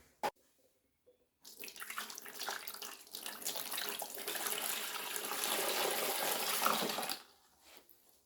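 Aquarius Pro Valet upholstery and carpet shampooer running with plain water, a soft hissing, splashing spray and suction that rises for several seconds after a brief click, then cuts off.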